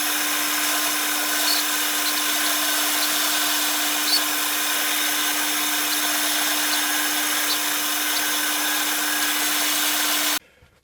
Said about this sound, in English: Right, so I'm going to get these over to the bandsaw.